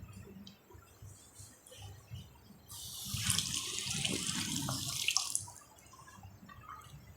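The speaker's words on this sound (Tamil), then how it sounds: "ஒவ்வொரு தக்காளியும் எடுத்து அந்த தண்ணியில் கையில் கழுவி" Tomatoes washed by hand in water, starting with faint background sounds, then a few seconds of louder running water, gurgling and splashing, before it fades back to quiet.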